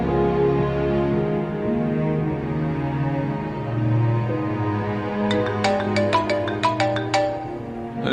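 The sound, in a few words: mobile phone ringing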